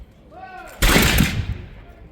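A volley of musket fire from Colonial troops at a Revolutionary War battle reenactment in Bound Brook, New Jersey, one loud, sharp blast that rolls off into a fading echo after a brief voice.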